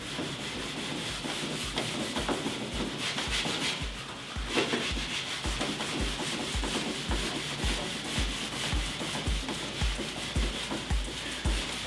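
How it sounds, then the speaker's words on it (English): Coarse wire wool scrubbing an Ercol wooden table top to lift the remaining stripper, a steady, close rasping rub that continues throughout in quick repeated back-and-forth strokes. "I'm going to scrub the surface of the table, taking off the rest of the stripper and the stripper around the edges."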